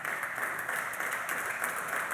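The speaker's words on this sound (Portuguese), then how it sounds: "Vamos lá, isso merece aplausos." A church audience breaks into sustained applause, a dense even wash of clapping with no pauses, moderately loud and filling the space.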